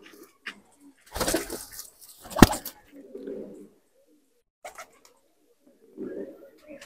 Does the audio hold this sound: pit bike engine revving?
no